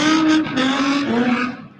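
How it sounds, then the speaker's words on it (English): Cars rev their engines and spin their tires at a nighttime street takeover in downtown Los Angeles, a loud, dense roar of engine and tire squeal that swells and fades, with no talking. "Engines revving, vehicles spinning, rubber burning"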